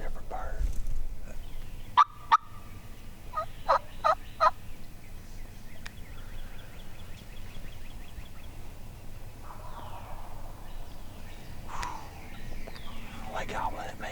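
Wild turkeys gobble during a spring turkey hunt outdoors, a few sharp rattling bursts close by followed by more distant gobbles, with hushed whispering voices and quiet field ambience between calls.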